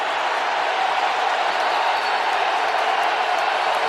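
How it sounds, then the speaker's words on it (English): A football stadium crowd at an NFL game, Bills at Packers, roars in a steady, dense wall of cheering and noise that stays loud and constant throughout without a break. "And the crowd amps it up."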